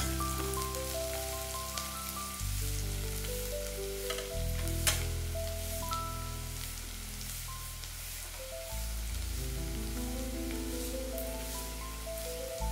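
Chopped onion and garlic fry in hot oil for an egg omelette curry, giving a steady, close sizzle that runs unbroken throughout beneath a continuous musical background.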